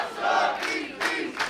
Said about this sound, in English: The Northeast Beast chants filling the Yarmouth Vets.